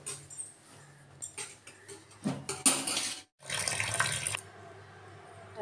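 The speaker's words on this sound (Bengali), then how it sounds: "চালটাকে ধুয়ে ভিজিয়ে রেখে দিয়ে যাবো" Tap water runs into a kitchen sink while rice is rinsed, a close, steady splashing stream broken by short gaps and bursts, with one brief silence before the flow resumes strongly.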